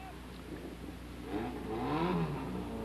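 A 350 cubic inch race car engine accelerates at a 1978 autocross, a fairly faint rising engine whine that builds over the last half, heard at a distance.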